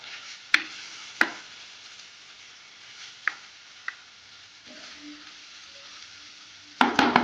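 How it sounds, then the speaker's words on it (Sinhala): Manioc being stirred with chili pieces in a pan, a quiet scraping stir broken by sharp spoon knocks against the pan, ending in a quick burst of clattering strokes. "කෑලි මිරිස් දාගෙන මේ විදිහට හොඳට කලවම් කරගන්න"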